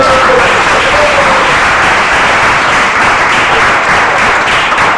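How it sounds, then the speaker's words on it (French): An audience at a certificate-presentation ceremony in Togo applauds the guests: loud, sustained, dense clapping that fills the room throughout. "Applaudissez pour nos invités à Kossimo."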